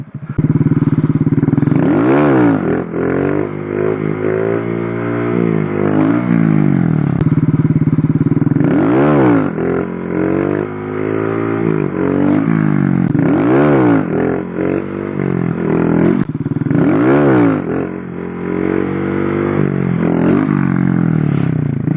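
A Honda Grom motorcycle revs hard during wheelie practice, its engine climbing and dropping in repeated loud surges with a steady idle rumble between pulls, close to the microphone and with no voices.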